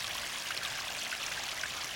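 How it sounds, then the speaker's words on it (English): Water spills off rocks into a garden koi pond stream, a steady close trickling and splashing rush that holds constant without a break and with no voices. "So the water just falls off of these rocks, and then it follows the bed around"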